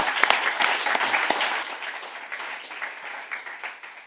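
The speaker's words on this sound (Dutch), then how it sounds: "Ik wil in ieder geval een hartelijk applaus voor Jan Bos en Joris van der Vis." A studio audience applauds the hosts of a tech talk show with steady, dense clapping that tapers off gradually, heard alone.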